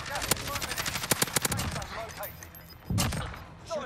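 Rapid bursts of automatic rifle fire in the Warzone shooter game, with a Kilo 141 loadout, crackle in close loud volleys with shorter single shots and a heavier blast near the end.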